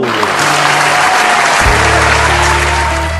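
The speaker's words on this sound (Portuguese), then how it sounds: "E quem aqui torce pela felicidade da Isa e do Tete? Fique em pé e bata palmas ao casal!" Guests at a wedding ceremony break into loud applause for the couple, a dense wash of clapping, with sustained music tones running underneath.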